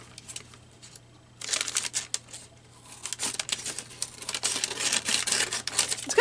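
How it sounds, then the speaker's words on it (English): Scissors snip and paper rustles while a page is cut out for a junk journal, a close run of quick crisp cuts and crinkles that grow busier after a short quiet start. "on this page I'll cut this out. Tear it out. I'm going to cut down the side."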